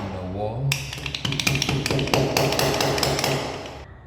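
A hammer knocks wall plugs flush into drilled holes in a wall, a quick run of sharp, close taps of varying loudness.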